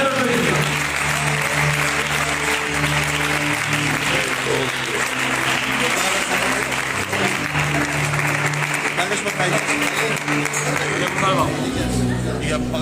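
A church congregation breaks into sustained applause, loud and continuous throughout, with crowd voices mixed in.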